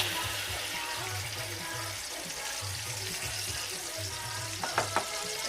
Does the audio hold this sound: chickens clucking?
no